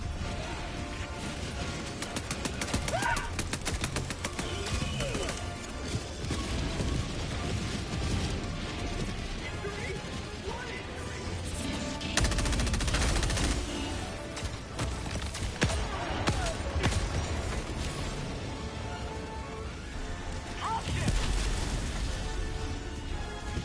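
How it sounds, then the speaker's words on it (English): An orbital barrage strike in the video game Helldivers 2 produces a sustained clatter of impacts and crashes, with several louder blasts rising out of the dense, mechanical rumble. "Requesting orbital. Firing orbital barrage."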